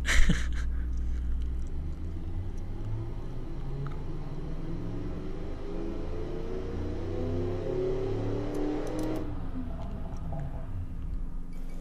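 Engine of a 1969 muscle car with no catalytic converter and straight-through mufflers, built in the Automation game, droning steadily and then revving upward in a rising pitch before cutting off, loud and alone.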